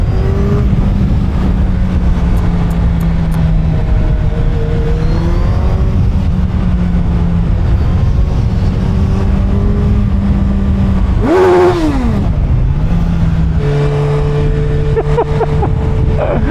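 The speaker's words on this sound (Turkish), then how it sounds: "gaz çeviriyorum ve çok az gaz çeviriyorum" A Suzuki Hayabusa 25th Anniversary motorcycle engine runs loud and steady close by, with small throttle blips and one sharp rev swelling and dropping near the end.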